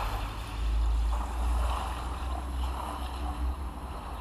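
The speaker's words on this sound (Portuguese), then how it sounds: "Sinto as ondas lamberem os meus pés." Ocean waves wash onto a sandy beach in a soft, continuous surge, heard as a steady low roar with gentle swells in loudness, fairly faint and without voices.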